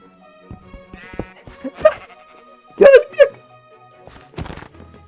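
Sheep bleat in the Minecraft video game, several short wavering calls spread across the clip, loudest in a close pair near the middle, mixed with a few soft game thumps.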